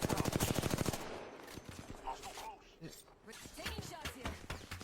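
Rapid automatic gunfire in a video game, a loud burst of evenly spaced shots for about a second, followed by scattered single shots and in-game effects while players talk over it.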